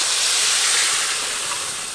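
A splash of water hits frying potato and bitter gourd with spices in a pan, setting off a loud, steady steam hiss up close for the whole short moment.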